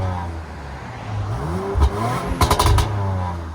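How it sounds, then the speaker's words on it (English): A 2019 Audi RS5 with a 2.9-litre twin-turbo V6 and full exhaust system idles with its exhaust valves closed, giving a steady low rumble broken by a few short, sharp revs near the end, with faint voices in the background. "This is with the valves closed"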